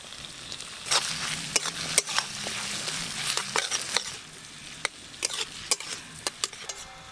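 Ginger garlic paste with chopped tomato frying in a pan, a soft steady sizzle broken by frequent sharp clinks and scrapes of a spoon stirring against the pan.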